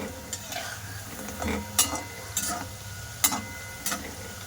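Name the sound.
gaja dough sticks frying in hot oil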